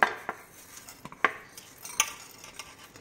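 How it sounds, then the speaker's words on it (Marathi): A spoon scrapes and clinks in a pan as sesame, cumin and coriander seeds are stirred and dry-roasted over medium heat, giving light irregular metallic taps close up with a faint background hiss and no voices. "हे आपण मीडियम गॅसवर एक अर्धा मिनिट छान परतून घेऊया"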